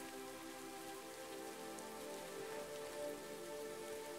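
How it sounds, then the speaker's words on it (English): Rain falls steadily onto rock pools, a dense, even patter of drops hitting water that holds at a constant level throughout with no voices. "The sound of raindrops hitting the surface of the rock pools created a gentle, soothing melody"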